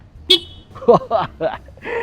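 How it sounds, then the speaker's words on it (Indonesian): A short, loud toot from the horn of a TVS iQube S electric scooter, followed by several brief honking bursts mixed with a voice. "ada klakson yang suaranya juga lumayan heboh"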